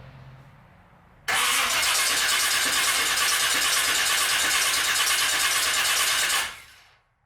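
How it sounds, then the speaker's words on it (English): A Chevy 350 engine turns over on a cold crank with a high-torque mini-starter: a loud, fast, steady cranking whir that runs about five seconds and then cuts off, with no talking. "it definitely cranks over a lot faster just on a cold crank here"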